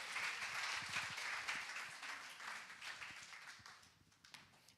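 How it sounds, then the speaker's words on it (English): A conference audience at a corporate indaba claps for presenters Brad and Nita, a fairly faint round of applause that gradually thins out and fades over several seconds. "let me ask everyone to give Brad and Nita a round of applause."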